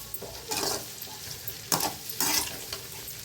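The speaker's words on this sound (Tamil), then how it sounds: "ஒரு கொஞ்சம் நேரமாவது நான் எண்ணெயில் நல்லா நெல்லிக்காவை வதக்குங்க" Large Indian gooseberries (amla) sautéed in oil for pickle, with a soft sizzle and a few distinct bursts of stirring and scraping in the pan, otherwise fairly quiet and without talk.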